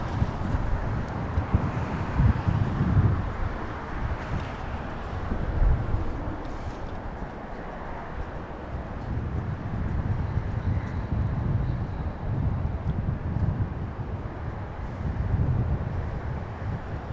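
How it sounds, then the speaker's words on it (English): Wind buffets a handheld microphone outdoors at Los Angeles International Airport, making a steady low rumble with gusts that swell and fade over about seventeen seconds. No one speaks. "Oh, the wind is picking up a little. Sorry about the shaking. It's just the wind."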